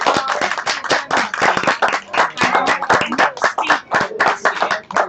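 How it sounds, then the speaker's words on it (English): Sustained clapping from an audience at a Pride-related talk event in a classroom setting, dense and steady throughout with no voices over it. "So can we give Amy a bit more appreciation for this one?"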